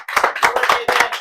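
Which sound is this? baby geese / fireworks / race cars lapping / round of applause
round of applause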